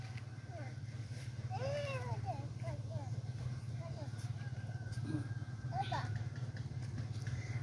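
A small child imitates a cat's meow several times with short high wavering calls, under a steady low background hum, with adult voices nearby.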